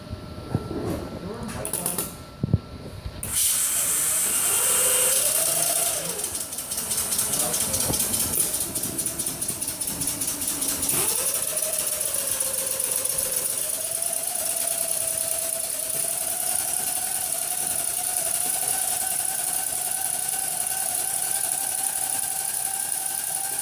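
Benchtop hybrid engine test rig spinning up under constant load to a steady 600 RPM, with a loud continuous mechanical drone and whine that rises in pitch, settles and holds, after a brief clattering start.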